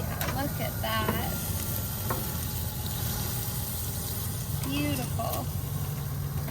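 Oyster mushrooms sizzle steadily on a hot grill while metal tools scrape and clack as they are flipped, with someone talking over the cooking sounds.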